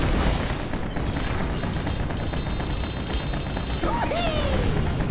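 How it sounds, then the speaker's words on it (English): Continuous loud gunfire and booming blasts from on-rails shooting in the game Lego Batman 2, dense and unbroken, with bright electronic game tones layered on top. "So we're just gonna keep shooting."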